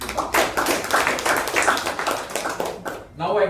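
Hands clap for the Toastmaster at a Toastmasters club meeting. The close, dense applause runs for about three seconds, then a voice begins speaking as it fades.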